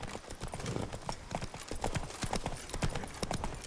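Hooves of Geralt's horse clip-clopping steadily in The Witcher 3: Wild Hunt, Blood and Wine, a brisk continuous trot of close, distinct knocks with a faint outdoor background and no talk.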